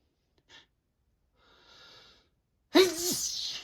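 A man's sneeze bursts out loud and close after a faint sniff and a soft drawn-in breath, ending with a voiced, falling tail.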